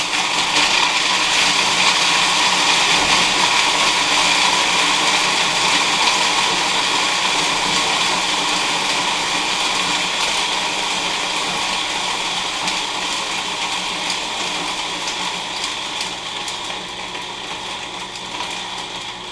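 A food processor blends nuts for a raw stuffed avocado filling, giving a loud, steady whirring grind with gushing texture that holds for the whole stretch and eases off slightly toward the end, with no talk.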